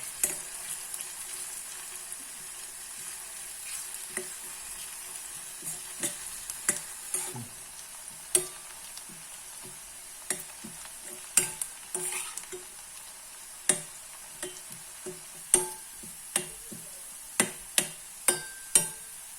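Onion sautéing in about three cups of hot coconut oil, with a steady crackling sizzle and repeated sharp clinks of a spoon stirring against the pan, loud and close with no talking.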